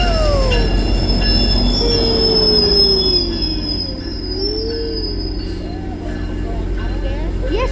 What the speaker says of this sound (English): All right, the train is arriving.